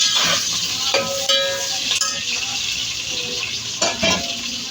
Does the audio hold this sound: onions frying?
yes